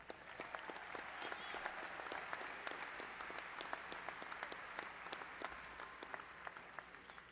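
An audience at Angelo State University's fall commencement ceremony applauds graduates: dense, steady clapping from a large crowd, sustained evenly for several seconds with no talking.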